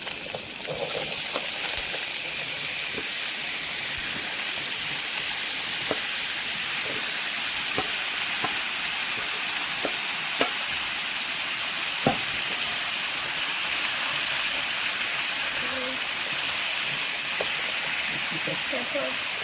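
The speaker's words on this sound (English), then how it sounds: "Once you see the garlic start getting brown on the edges, which it has, you start adding the pumpkin." Pumpkin added to garlic already browning in a hot pan fries with a steady broad sizzle and hiss, scattered with small clicks and stirring taps, while someone talks quietly over it.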